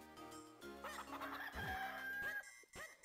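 A cucco, the chicken of the video game Zelda: The Minish Cap, gives a shrill, stretched rooster crow over layered game music and effects, fairly close and prominent.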